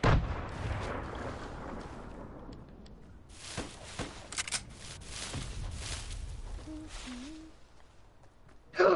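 Distant gunfire and artillery-like booms in a battle-royale style video game match, scattered shots and thuds rising and falling over a continuous rumble, with a loud burst near the end.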